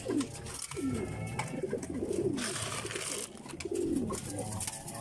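Pigeons cooing inside a loft, several soft throaty coos repeating in short rolling phrases over a low background hum.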